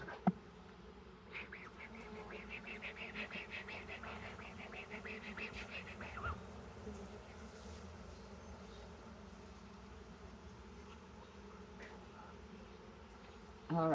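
Honey bees swarm and buzz around an open hive during a frame inspection, a steady close drone with louder bursts, while people talk quietly nearby.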